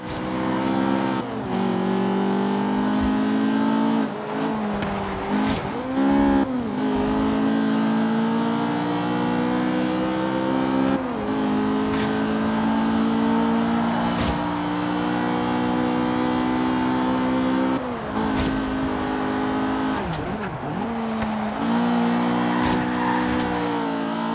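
Race cars roar through a night circuit at Surfers Paradise in Forza Horizon 3, a loud, unbroken engine drone that revs up and dips with repeated gear shifts, with no talking over it.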